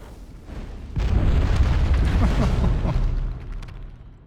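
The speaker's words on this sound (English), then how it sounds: "That was a massive explosion." A massive explosion in the video game Dragon Age: Origins: a sudden, deep boom that bursts in, then rumbles with crackling debris for a couple of seconds before fading out.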